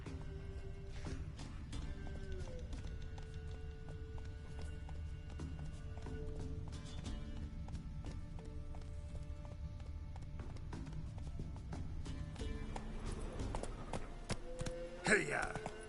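Roach the horse gallops in The Witcher 3, with steady rhythmic hoofbeats under game sounds and spoken voices.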